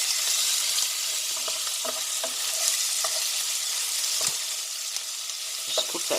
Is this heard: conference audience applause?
no